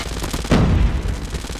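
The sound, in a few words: Hades light machine gun firing in the video game COD Mobile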